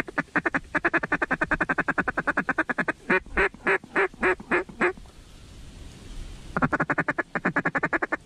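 Ducks quack in repeated rapid bursts during a hunt, a long run of loud, close calls, a short pause of hiss, then another fast series of quacks with no talking.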